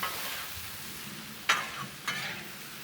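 Chicken pasta stir-fry tossed with apricot and sriracha on a Blackstone griddle, a steady sizzle broken by two sharp metallic scrapes of a spatula mixing the food.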